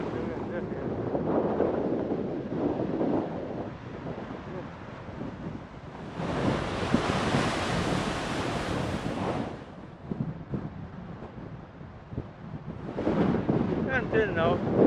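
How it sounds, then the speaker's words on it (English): Strong stormy wind buffets the microphone on the Xghajra coast of Malta, with waves surging nearby, a loud continuous roar that swells and eases, while someone talks over it at times. "Here the wind is very strong."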